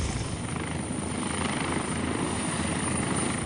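A helicopter flies with a steady, dense rotor whir and engine roar that holds loud and even throughout, with no voices.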